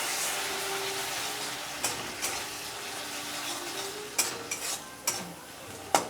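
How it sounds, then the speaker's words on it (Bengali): Egg posto curry with a little water being stirred and sautéed in a pan, a soft steady sizzle with a few sharp scraping clinks of the spoon against the pan. "এটাকে আমি অল্প জল দিয়ে কষিয়ে নেব।"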